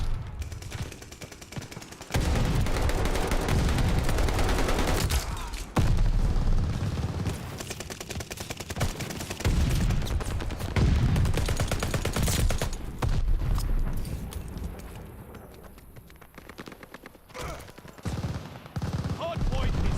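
Sustained heavy gunfire and automatic bursts rage at a hardpoint in a shooter video game. The firing is loud and almost continuous, with brief lulls and a voice speaking over the battle.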